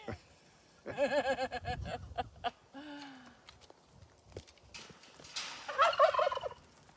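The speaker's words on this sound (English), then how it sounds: "Or is that a turkey? I don't know. That's a turkey, I think." Farmyard turkey gobbling in several loud rattling bursts close by, mixed with other fowl calls and intermittent voices talking nearby.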